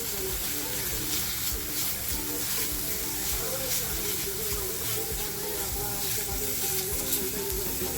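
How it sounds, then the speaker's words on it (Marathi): Grated coconut and onion sizzle steadily in a hot pan while a clam curry is being made, with occasional stirring and a voice speaking faintly underneath. "थोडंसं जे खोबरं घेतलं आहे ते खोबरंसुद्धा आपल्याला हलकंसं फ्राय करून घ्यायचं आहे"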